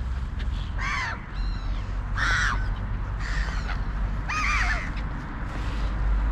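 Crows cawing outdoors while feeding on scattered grain and seed: four or five loud, harsh caws at irregular intervals over a steady low rumble.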